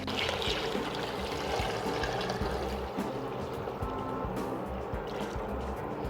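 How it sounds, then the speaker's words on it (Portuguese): Filtered water pours steadily into a pot of chicken for collagen-rich broth, a continuous close splashing and gurgling stream that runs for several seconds with no voices. "agora eu vou cobrir com água filtrada"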